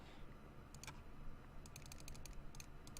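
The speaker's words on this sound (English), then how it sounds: "Just that little bit of clicking did it" Quick mouse clicks in the Cookie Clicker video game, sharp light taps in irregular bursts, sparse at first then clustering densely, close and crisp over a faint steady background hum.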